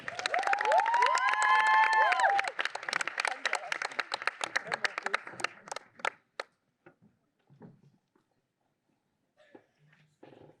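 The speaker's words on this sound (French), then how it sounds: "veuillez applaudir Joanne Constantin Seigneur" Audience at the Prix Lilith awards ceremony breaks into loud applause with whoops and cheers, then the clapping thins to scattered claps and fades to near silence after about six seconds.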